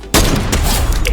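A sniper rifle fires in the game Fortnite, a single loud, sudden crack followed by a short booming tail.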